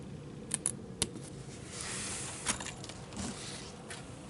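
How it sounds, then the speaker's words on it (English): Scissors snip through rickrack trim in a few sharp, close clicks spread over several seconds, with soft rustling of fabric between cuts and no talking. "at the bottom I'm going to cut this off."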